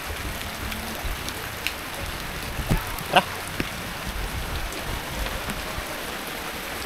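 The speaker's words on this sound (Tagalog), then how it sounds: "Umulan." Rain falls steadily outdoors during a walk, an even hiss of drops on surfaces with a few sharper pattering taps, and a voice speaks once briefly.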